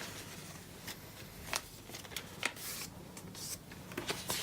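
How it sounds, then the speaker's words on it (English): A paper printout for a printed circuit board is folded in half, giving soft close crinkles and sharper creasing rustles in short bursts, fairly quiet with no talk. "So I'm going to fold this in half."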